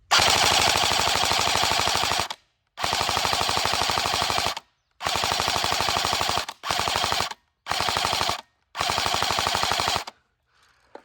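An M16A1 airsoft rifle with a Gen 1 motor fires on full auto in six loud, close, rapid buzzing bursts separated by short pauses, then falls quiet.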